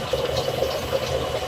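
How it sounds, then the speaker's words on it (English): Water rushes steadily into a Gledhill Pulsacoil A Class hot water cylinder as it refills after an immersion heater renewal. The sound is a continuous, close, even flow with no talk. "We're now filling it back up, as you can hear the water running into the cylinder."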